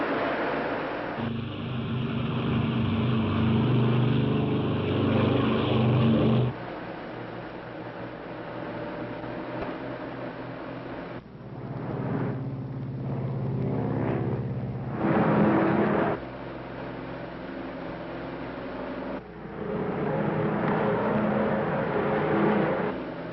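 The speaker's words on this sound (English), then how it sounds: "Ready for takeoff. Takeoff power." Engines of a 1950s airliner at takeoff power, a steady loud roar that changes level in several broad stretches, sounding like a cabin recording.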